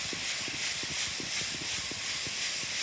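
Mushrooms tossed in a hot kadai give a steady, loud sizzle and hiss, with faint scraping knocks under it throughout.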